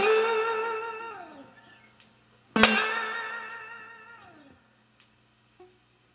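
A rockabilly guitar lick is played at full speed on electric guitar: a ringing, bending note fades out, then one sharp plucked attack rings and slides down before trailing off, followed by faint taps.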